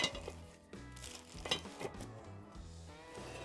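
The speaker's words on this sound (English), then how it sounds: "lift this in, pop it into the middle there, like that, and then lid on" A heavy cast iron pan and its lid are lifted into a hot wood-fired oven for no-knead bread, giving a few clanks and scrapes of metal on metal over a steady music bed, close and fairly quiet.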